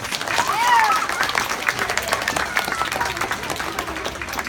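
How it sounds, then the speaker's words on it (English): Crowd at a sea lion presentation applauds the dance moves, steady clapping with a few cheers and voices mixed in, a whistle-like squeal rising near the start. "How about a round of applause for those dance moves?"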